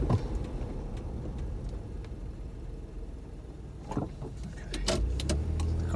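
Second-generation 4Runner rolling on a road test after a rear brake drum replacement, a steady low vehicle rumble with a few sharp mechanical clicks and thumps near the end as it comes to a stop.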